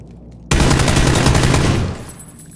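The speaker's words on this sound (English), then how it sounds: "Hella shots." Rapid automatic gunfire from a first-person shooter video game bursts in suddenly, a loud dense fusillade lasting about a second and a half before cutting off.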